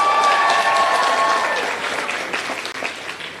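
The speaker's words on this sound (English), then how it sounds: "Let's give you a round of applause." At a community college commencement, a large audience applauds the graduating class with full, continuous clapping that fades gradually toward the end, a faint tone sounding early.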